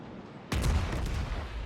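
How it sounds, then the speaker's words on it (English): Naval guns in World of Warships fire high-explosive shells: one sudden heavy boom hits after a short quiet moment, then trails into a long rumbling roll. "And he is shooting high explosive"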